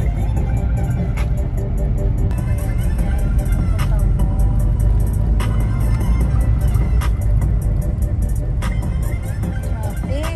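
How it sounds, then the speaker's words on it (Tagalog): Busy road near Quiapo in Manila with cars, buses and trucks rumbling past, a steady loud wash of engine and tire noise with occasional horn-like tones, faint crowd babble underneath. "Traffic guys. Traffic tayo. Tingnan mo yung mga sasakyan."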